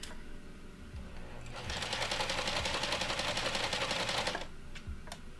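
A sewing machine stitches pieces of fabric for a Serissa pattern garment, a close, loud, rapid whirring run of about three seconds, with quieter handling clicks and taps before and after.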